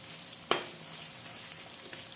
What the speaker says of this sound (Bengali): প্রথমে আমি আলুগুলোকে আগে ভাজে নিচ্ছি